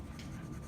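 A pencil shades on paper with a soft, steady, close scratching that runs continuously for under a second.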